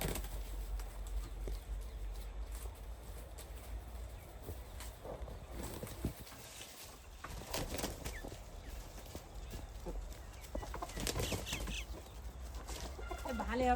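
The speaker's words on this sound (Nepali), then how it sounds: "भालेहरू त पर लैजान भाइ।" Local chickens and roosters cluck softly on a small home poultry farm, faint and scattered against steady background noise while people talk nearby.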